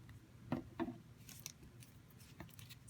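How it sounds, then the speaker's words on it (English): Scissors snip a paper playing card in a few quiet, close cuts, soft crisp clips spaced apart in a calm room. "I'm going to cut it out."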